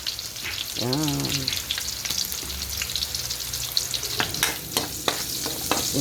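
Ginger sizzles and crackles in hot oil in a pan as it is sautéed for ginataang bangus. A spatula stirs and scrapes now and then, and a voice speaks briefly near the start.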